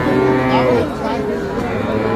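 Young Friesian cross heifer calves moo at a busy Saturday cattle market, one drawn-out low call up close over a murmur of crowd chatter and nearby voices.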